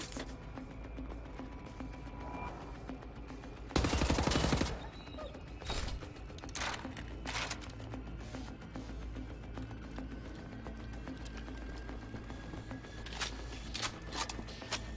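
Gunfire from the video game Wolfenstein The New Order: a loud burst of rapid automatic fire, followed by several sharp single shots spaced out, then a few more cracks near the end over low background game ambience.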